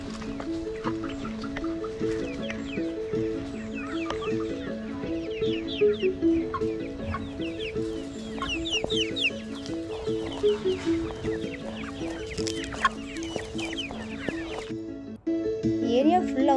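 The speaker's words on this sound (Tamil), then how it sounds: "இந்த கோழிகளெல்லாம் ஓடி வந்துட்டுருக்கு." Chickens at a resort cluck busily in a steady stream of short calls as they run toward people, with a person talking over them throughout.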